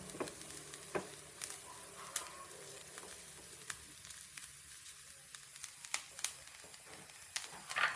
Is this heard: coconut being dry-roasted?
yes